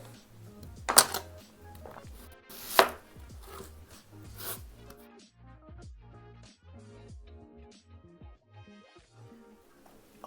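A knife chops onion on a cutting board in a home kitchen, a quick run of soft, close taps with a couple of louder knocks, fairly quiet overall.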